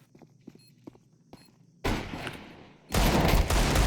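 Gunfire in the Counter-Strike video game: soft footsteps and small taps, then two loud bursts of rapid shots, the second heavier and sustained to the end.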